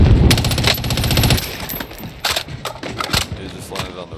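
Rapid machine gun fire in Call of Duty: Modern Warfare, a loud close burst at the start followed by scattered, choppier shots and clatter as the firing tapers off.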